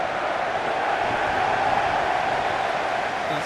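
Stadium crowd noise during a simulated FIFA 15 league football match between Hartlepool and Blackburn Rovers: a steady, dense wash of spectators applauding and murmuring, sustained at an even level with no clear breaks.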